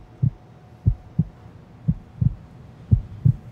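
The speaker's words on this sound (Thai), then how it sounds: "หัวใจเต้นแรงจัง" A steady heartbeat sound effect, low thumping double beats repeating at a slow, even rhythm for several cycles, close and clear with no voices.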